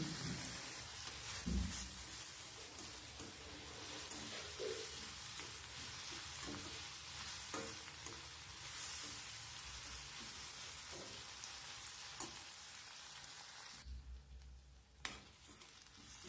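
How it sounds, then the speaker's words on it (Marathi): Onion and tomato sauté in oil in a pan, a soft continuous crackle and sizzle with occasional light taps of a stirring spoon, faint and even throughout. "टमाटा पण आपल्याला तेलावर छान परतून घ्यायचा आहे बघा अशा पद्धतीने"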